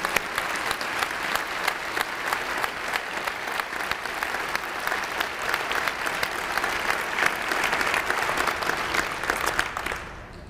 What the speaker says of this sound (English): Let's give all of these kids and their parents a round of applause.